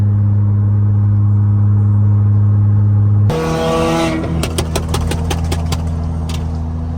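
BMW F10 535i engine and exhaust drone loudly while driving at night, a steady close roar that shifts partway through into a rasping rev with rapid crackling pops, no talking.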